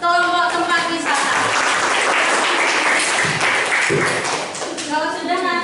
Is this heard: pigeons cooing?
no